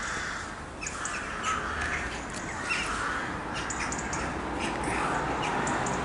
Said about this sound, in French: Les corneilles et les corbeaux,